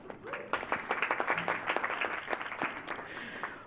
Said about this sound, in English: How about some applause for that?